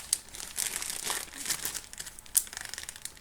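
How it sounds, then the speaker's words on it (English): A plastic freezer bag crinkles and rustles close up, with soft irregular crackles and a few sharper crisp peaks, no voices. "Then I would drop it in a freezer bag."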